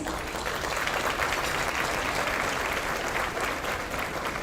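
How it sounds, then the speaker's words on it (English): Sustained applause from an audience at an awards ceremony for older adults, steady and dense throughout, with no talk over it. "If we can give them all a big round of applause."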